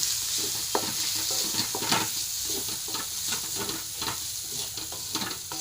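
Spiced tomato masala with chili powder and black pepper frying in oil for bottle gourd kofta curry, a continuous close sizzle punctuated by repeated scraping stirs of the spoon.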